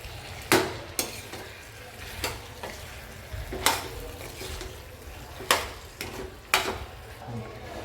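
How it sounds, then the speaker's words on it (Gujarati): Boiled potatoes frying in a pan for bhungra bateka, a soft steady sizzle broken by repeated sharp scrapes and clinks of a spoon stirring against the pan at irregular intervals. "સારી રીતે મિક્સ કરી દઈશું।"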